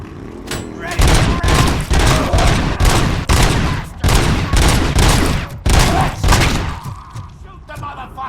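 Rapid bursts of gunfire and thudding blasts from a Detroit city police-themed video game, loud and nearly continuous with short gaps between volleys.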